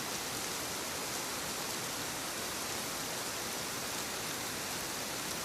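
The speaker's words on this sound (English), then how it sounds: "It's a bad night for rain." Rain falls steadily at night, a dense, even wash of hiss with no breaks or distinct drops, continuous and fairly soft throughout.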